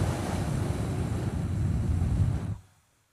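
A group at a voice workshop blows air through drinking straws with no water, making a steady, breathy rushing hiss that holds evenly for about two and a half seconds and then cuts off abruptly, with no talking.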